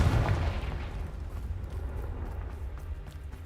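A Confringo explosive spell in Hogwarts Legacy lands with a heavy, booming blast up front, followed by a rumbling, crackling decay that lingers for several seconds.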